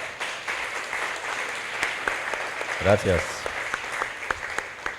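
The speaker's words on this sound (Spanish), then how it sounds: "Ahí va el aplauso a Dios por ellos." A church congregation applauds in a scattered, moderate clapping that runs under a voice speaking briefly.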